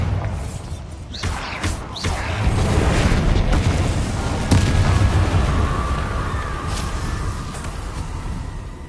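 A Bombarda blasting spell in Hogwarts Legacy goes off as a loud, rumbling explosion, with sharp crackling bursts early on that swell into a sustained, roaring boom with a faint whistling tone over it.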